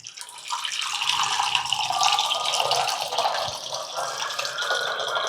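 Water pours steadily into juice in a continuous splashing rush, close and fairly loud, with no talking.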